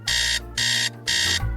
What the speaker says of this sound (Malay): Tengok. Jam loceng.